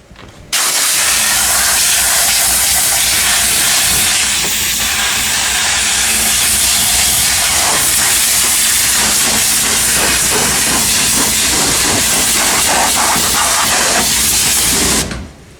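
A steam cleaner blasting a car engine bay, a loud, steady, broadband hiss that starts abruptly and holds unbroken for about fourteen seconds before cutting off.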